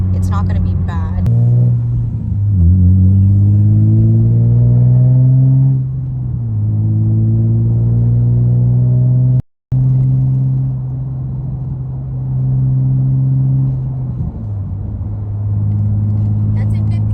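Infiniti G35 with a newly fitted aftermarket exhaust cruising in fifth gear, giving a loud, steady low exhaust drone from inside the car that rises and falls slightly in pitch, with one brief dropout.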